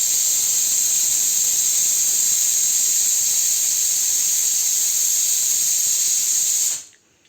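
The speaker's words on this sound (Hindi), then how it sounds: "सीटी आ गई है कुकर की" Steam shrieks from a pressure cooker whistle as potatoes cook on the stove, a loud continuous high-pitched hiss held steady for several seconds before cutting off abruptly into near silence.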